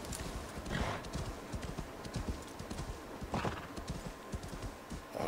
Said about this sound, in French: Je sais pas jusqu'où le cheval va pouvoir nous mener.